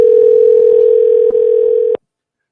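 A loud, steady telephone dial tone hums on without a break after a failed call, with one small click partway through, then cuts off abruptly into silence.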